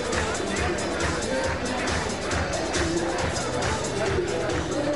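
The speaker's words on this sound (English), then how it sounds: "Take a listen as the crowd prepares for him to take the stage here." A large crowd murmurs and chatters in a steady, dense babble at a Michigan GOP victory celebration, waiting for Rick Snyder to take the stage, with indistinct voices filling the hall throughout.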